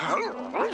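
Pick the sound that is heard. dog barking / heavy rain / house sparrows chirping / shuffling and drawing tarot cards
dog barking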